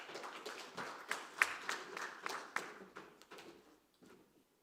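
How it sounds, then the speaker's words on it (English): Faint conference audience applause, a light patter of claps from a modest group of colleagues that tapers off and fades to silence within a few seconds. "Round of applause, colleagues."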